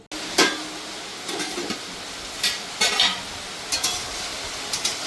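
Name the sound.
sautéing and stirring chicken kadai masala in a pan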